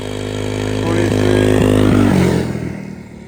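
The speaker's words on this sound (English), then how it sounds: "Snow Scoot, wide open." A Snow Scoot 200C snow bike engine runs at full throttle, a loud droning roar passing close by on snow, then fading quickly as it moves away.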